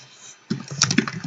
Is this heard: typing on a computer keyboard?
yes